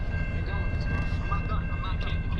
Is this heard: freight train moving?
yes